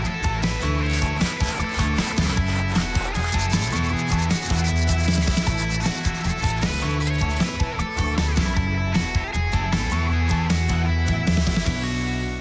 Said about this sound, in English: I found that the rotary bit, the sanding drum here, got gummed up a lot